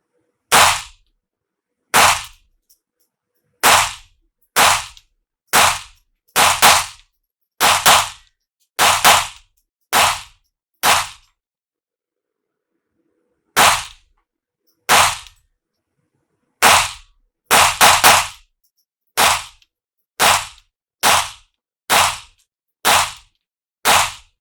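.22 Beretta 92FS pistol fired outdoors as a string of about twenty sharp, loud shots, some spaced apart and others in quick clusters, with silence between them and no speech.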